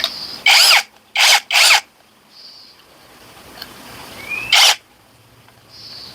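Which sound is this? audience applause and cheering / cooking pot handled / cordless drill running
cordless drill running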